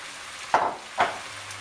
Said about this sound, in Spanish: ahora le ponemos todo a pochar, todo lo que es la verdura